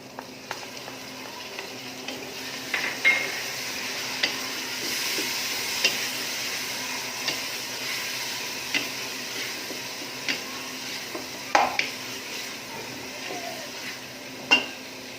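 Tomatoes stirred into a sizzling pan while cooking an aloo baingan (potato and eggplant) dish, a steady fry hiss with intermittent utensil scrapes and clicks against the pan, no voices.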